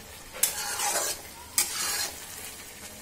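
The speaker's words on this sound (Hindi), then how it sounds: "मैं इस मसाले को पकाऊंगी।" Masala spice paste cooking in a pan, two distinct scraping stirs each followed by a brief burst of sizzle, close and fairly quiet with no talking.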